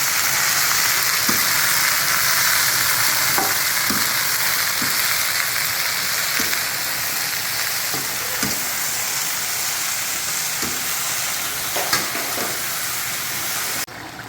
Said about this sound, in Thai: นี่นะครับเดือดแล้วนะครับ